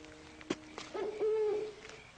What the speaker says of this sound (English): You suppose that owl knows anybody we know?